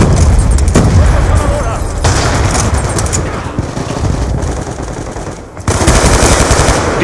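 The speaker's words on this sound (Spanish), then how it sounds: "¡Esperen! ¡Granada!" In a Black Ops 2 team deathmatch, dense machine gun fire rattles loudly and continuously with booming blasts from a grenade explosion, and voices call out over the gunfire.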